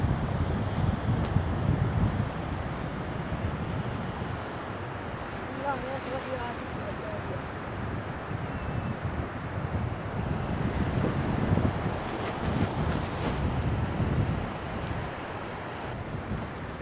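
Sea waves wash against the shore near Karachi under steady, gusting wind buffeting the microphone, a continuous rushing roar with a person talking briefly over it.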